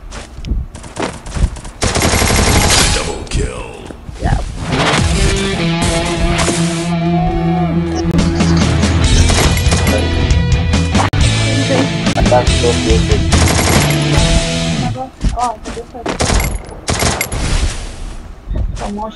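Rapid bursts of automatic gunfire and single shots ring out in a shooter video game, loud and sustained with clustered volleys, while players talk over the action.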